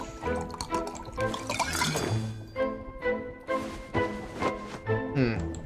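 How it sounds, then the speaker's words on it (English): Liquid is poured in the card-cheating game Card Shark, giving a steady trickling and dripping stream with small splashes that runs under musical game audio for several seconds. "Now I've got to pour again."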